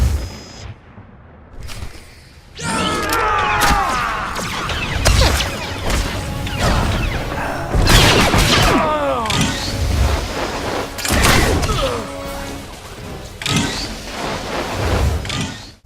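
Blaster gunfire in a shootout in Star Wars: The Old Republic, with repeated sharp bursts and crashes over several seconds, loud and close, mixed with game sound effects and brief shouted voices.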